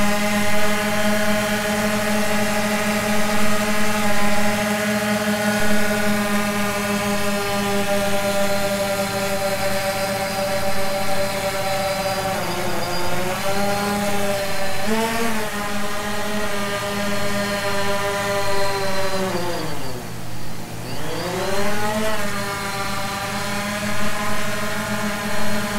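A DJI Phantom quadcopter drone fitted with landing gear skids hovering a few inches above the ground, its loud, close, steady rotor whine shifting in pitch as the throttle is eased back and forth.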